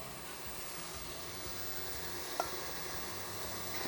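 Seasonings sautéing in a pan for a cassava pie, a steady, even sizzle holding at moderate level throughout, with one brief faint tick partway through and no voices.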